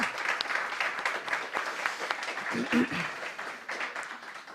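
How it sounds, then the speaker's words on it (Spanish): Audience applause at a Spanish sports-and-integration event with NGOs, a burst of clapping from a seated crowd filling the room, gradually thinning out, with some voices mixed in. "Fenomenal, pues un aplauso."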